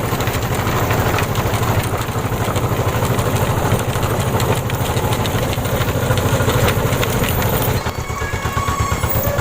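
Motorcycle engine running steadily while riding along a straight road, a loud, close, even throb that continues for the whole stretch with wind rushing past.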